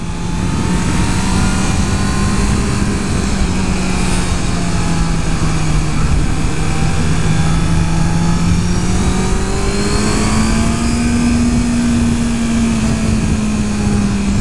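A 2014 Honda CBR650F motorcycle engine drones steadily and close, its pitch slowly rising and falling as it revs, with no pause throughout.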